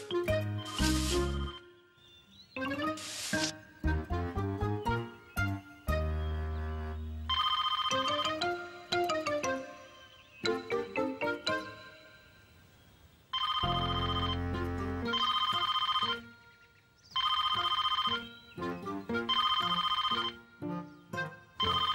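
A cartoon telephone in a Miffy episode rings in bright, jingly electronic trills, repeated bursts with short pauses between them, clear and alone.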